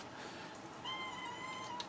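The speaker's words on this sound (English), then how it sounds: "that is the whiniest cat you will ever hear in the background" A cat whines in the background, a faint, drawn-out meowing cry that rises midway and keeps going to the end.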